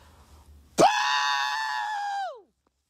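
A man lets out a loud, sustained scream lasting about a second and a half, strong and steady before trailing off with a falling pitch, preceded by faint background murmur.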